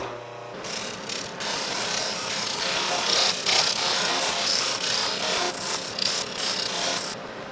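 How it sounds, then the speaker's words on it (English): A drum sander loaded with 36-grit paper grinds across glued plywood, a loud continuous rasping whir that holds steady for several seconds with slight surges and ends abruptly. "I'm gonna use my drum sander for that"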